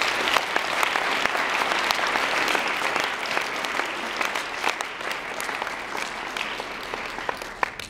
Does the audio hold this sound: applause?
yes